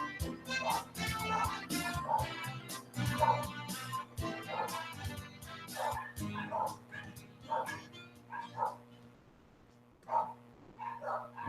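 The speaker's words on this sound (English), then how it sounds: "Is that your dog barking?" A dog barks repeatedly in a quick irregular series of sharp yips and barks, fairly close, with some whimpering between bursts and a steady low hum underneath.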